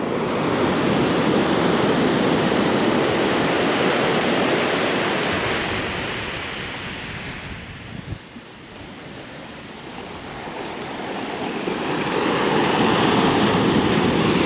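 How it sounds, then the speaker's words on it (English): Ocean surf at Limantour Beach in Northern California roars in a dense, continuous wash that eases briefly midway before swelling back to full strength, with no voices present. "Those are short-lived waves."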